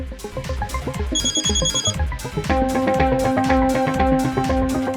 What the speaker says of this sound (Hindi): आ गया फोन तुम्हारी अम्मा का?